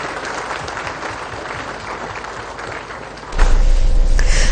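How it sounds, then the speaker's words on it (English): Audience applause in a broadcast studio, a steady patter of many hands clapping at moderate level, then swelling louder near the end with a sudden low thump. "Sure, we can have a round of applause, everybody"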